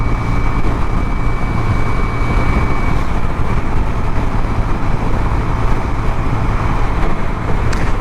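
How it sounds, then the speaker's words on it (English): A Yamaha V-Star 250 motorcycle held at full throttle in fifth gear on a freeway at night gives a steady, loud engine drone. Wind and passing traffic roar underneath it without a break. "Alright, I'm 5th gear, full throttle."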